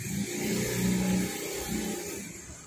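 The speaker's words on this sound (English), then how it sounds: "So this is the engine, a 1691cc" A 1969 Volkswagen Kombi Bay Window bus's 1691cc air-cooled engine, with a Weber 34 ICT carburetor and Vintage Speed Classic Superflow exhaust, runs steadily with a low, throbbing drone and slight rev swells.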